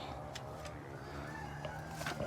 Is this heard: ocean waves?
no